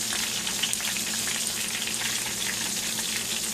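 A catfish tail fries in oil in a pan, giving a steady, dense crackling sizzle that runs unbroken and close throughout, with no voices.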